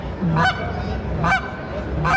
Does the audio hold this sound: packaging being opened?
no